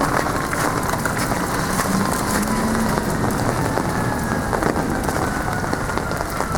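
Hail and heavy rain fall steadily outside during a storm, a dense continuous patter of drops and ice pellets on surfaces, fairly loud and unbroken with no talk.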